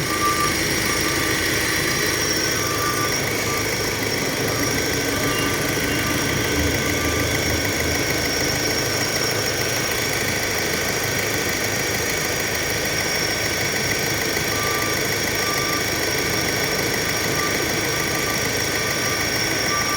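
A Hyundai Accent idles steadily with its cooling fan running, giving a continuous even engine drone and fan whoosh, close and unchanging throughout with no talking.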